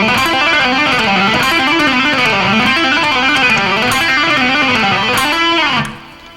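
Distorted electric guitar rips through a rock lick of hammer-ons, pull-offs and slides at full speed, a fast unbroken cascade of notes that winds up and down before a final ringing note decays.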